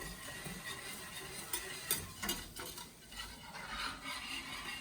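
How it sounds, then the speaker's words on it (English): Butter and flour being stirred together in a pan, with a soft, steady scraping and swishing, faint light clinks of a utensil, and a quiet sizzle underneath, with no talk. "you want to try to make sure you get all of the butter and the flour mixed together here"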